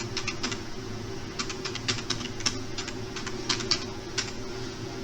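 Steady computer-keyboard typing while writing Python code to print a tuple, irregular bursts of quick clicks over a constant low hum, fairly close and no one speaking.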